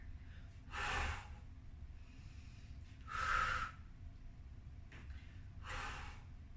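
Three forceful exhales during a HIIT workout, spaced a couple of seconds apart over steady background noise, each a loud, breathy burst lasting under a second.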